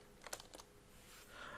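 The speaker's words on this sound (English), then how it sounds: "I'm typing everything system dot out dot print." Keystrokes on a computer keyboard while Java print statements are typed, a few quick clustered taps near the start, then quieter typing, close and with nobody talking.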